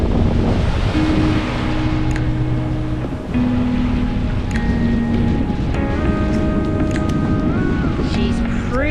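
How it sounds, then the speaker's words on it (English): Strong, steady wind roars across a microphone on a Danish beach, with surf and waves underneath and a few tonal whistles, continuous and loud throughout. "If it wasn't so windy, this would be amazing."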